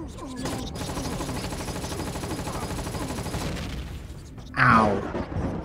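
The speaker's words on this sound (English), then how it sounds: "Oh, yeah, bloody gun turrets. My least favourite thing in the game." Gun turrets firing in the video game Empyrion at an abandoned drone base: a long, rapid, steady stream of gunfire rattling continuously for several seconds, ending in one sharper, louder burst.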